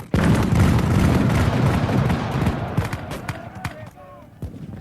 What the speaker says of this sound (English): He hears his artillery opening up at Vanderling's Mill.